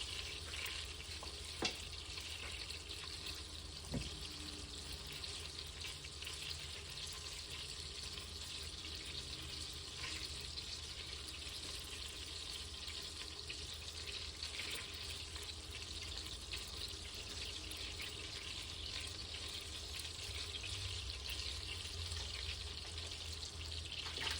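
Sausage going into a pan of melted fat for holiday stuffing, making a steady, even sizzle that holds for over twenty seconds, moderately quiet and close, with a couple of faint clicks and no speech.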